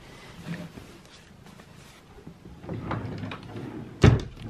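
A deep drawer stuffed with shirts is pulled open in a closet, giving a low rumbling slide and ending in a sharp thump, close and fairly loud against a quiet room.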